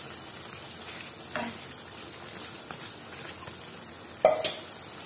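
Pieces of fried koi fish, a climbing perch, are laid out in a hot pan for a dopiyaza curry, giving a soft, steady sizzle with faint scraping and a brief clink near the end.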